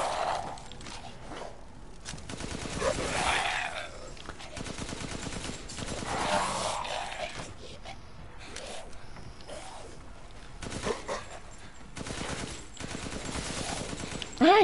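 Gunfire in Resident Evil Village, several sharp shots in irregular bursts among clanking mechanical game noises, with a voice heard briefly between them.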